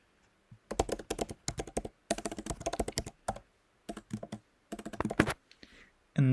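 Code being typed on a computer keyboard, close and fairly quiet, in quick bursts of clicking keystrokes separated by short pauses, with no speech.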